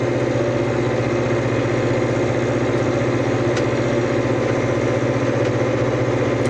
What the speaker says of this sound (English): it's definitely working, the tractor